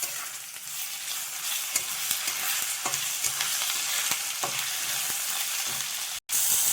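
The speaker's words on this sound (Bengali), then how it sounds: "দিয়ে ভালো করে এটাকে নাড়াচাড়া করে নিতে হবে।" A spiced potato mixture with chilli, turmeric, coriander and cumin powders fries in a pan and is stirred, giving a steady close sizzle broken by repeated scraping strokes, with no talking.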